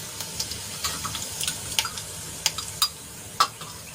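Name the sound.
cumin seeds sizzling in hot oil in a kadai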